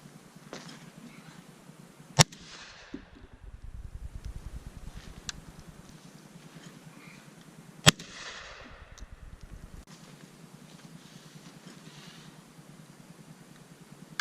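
Two sharp, loud shots from a Beretta A300 Outlander semi-automatic shotgun at a range, spaced several seconds apart, each followed by a brief rolling echo over quiet background noise.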